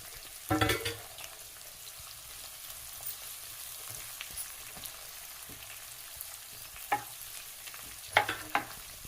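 Onions and green chillies fry in oil toward golden brown, a low continuous sizzle broken by a few sharp spatula stirs and scrapes against the pan, no talking.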